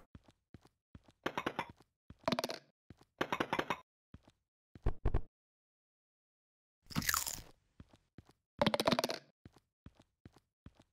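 Food crunches loudly and close in repeated chewing bursts, each a dense grinding crackle separated by silent gaps and scattered small clicks.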